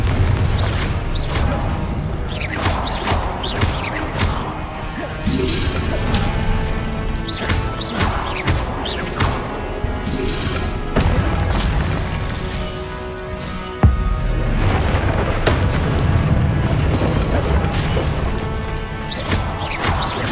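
Fiery Confringo blasting-spell explosions in the video game Hogwarts Legacy: a string of heavy booms and crashes bursting one after another, loud and dense, layered over a continuous game soundtrack.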